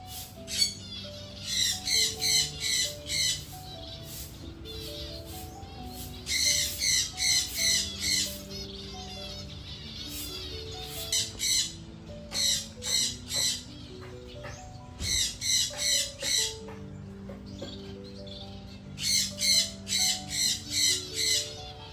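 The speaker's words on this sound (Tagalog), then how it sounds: "Can you hear that, guys? The sound of birds." Birds squawk and chirp at a bee farm in Bohol, repeated loud calls in rhythmic bursts over a steady chorus of other birdsong.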